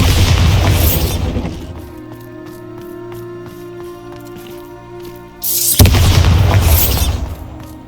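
Bombarda spell blast in the game Hogwarts Legacy; a loud, bursting explosion with crumbling debris opens, fades into a ringing, tonal tail, then a second heavy blast erupts near the end.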